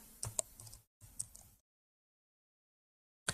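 A short burst of light clicking keystrokes on a computer keyboard, then a pause, then a few more taps and near silence before one last keystroke.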